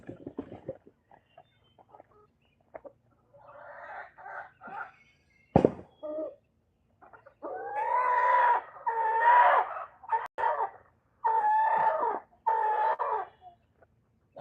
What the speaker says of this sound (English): What is it, Mr. Rooster?